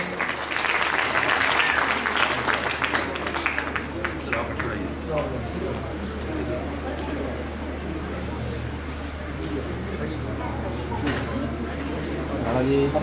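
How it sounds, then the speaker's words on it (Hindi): An audience at a Bhagavat Katha religious gathering at Baba Hari Shah Darbar claps to welcome a guest, a burst of applause that fades into a murmuring crowd with voices talking underneath. "तालियों से स्वागत करें।"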